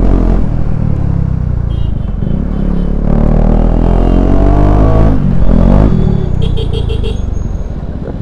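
A KTM Duke 250 with a loud aftermarket exhaust roars while being ridden, a close, heavy engine drone rising and falling with throttle, wind rumble underneath and a brief clatter near the end.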